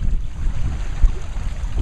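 Wind roars and waves rush against the hull of a Lagoon 380 sailing catamaran, a loud, steady low-heavy rumble with a brief thump midway and no voices.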